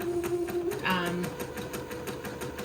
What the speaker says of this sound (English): Just zigzag right over what you zigzagged before.